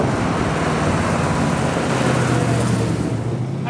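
Holden Torana XU1 V8 HDT prototype replica driving at a steady pace, a loud, continuous low engine drone with road and wind rumble from inside the car, held around 3,500 to 4,000 rpm without revving.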